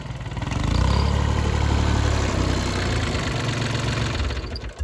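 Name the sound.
tractor engine running in a field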